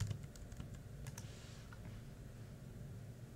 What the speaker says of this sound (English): I'm just going to type Desert Island Discs